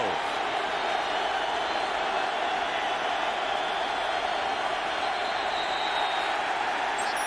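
Stadium crowd at an NFL game between the New York Giants and Dallas Cowboys, a loud, steady roar of many voices filling the air without letup.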